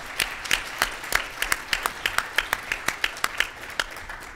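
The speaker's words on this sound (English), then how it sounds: "Let's give a round of applause to all the presenters you've seen today" Rhythmic clapping from a small live audience applauding presenters at a gambling-addiction podcast recording, sharp regular claps at close range, moderately loud with no talk.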